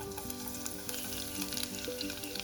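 Seven or eight garlic cloves and curry leaves frying in hot oil, a continuous crackling sizzle with tiny popping bursts, close and even, over a faint steady tonal hum.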